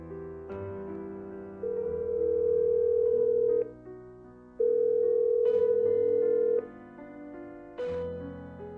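A mobile phone ringback tone: long steady electronic tones repeating with short gaps between them, clear and alone.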